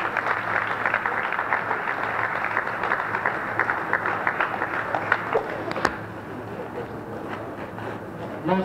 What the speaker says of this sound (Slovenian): ki si zaslužijo vručen aplavz